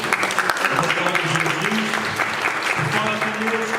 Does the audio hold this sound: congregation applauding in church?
yes